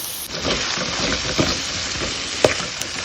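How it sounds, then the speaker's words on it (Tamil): Spiced vada curry stirred in a pan, a constant loud sizzle of frying masala with scraping strokes and occasional clinks of the spoon against the pan. "இதை நல்லா கலரி கொடுங்க"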